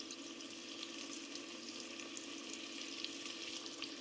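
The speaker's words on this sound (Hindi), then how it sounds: "साथ साथ हम प्याज़ों को हिलाते रहेंगे ताकि हमारे प्याज नीचे से जो है वो जल ना जाए।" Onions frying in a pan for chicken dum biryani, a steady close hiss and crackle of sizzling with faint stirring scrapes, continuous and moderately quiet.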